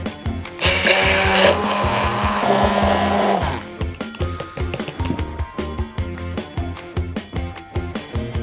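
A kitchen blender whips canned chickpea liquid into foam, giving a loud, steady motor whir for about three seconds before it stops and a quieter, rhythmic clatter follows.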